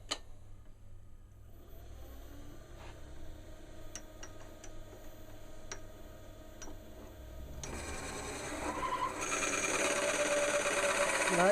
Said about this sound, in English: Let's turn the lathe on.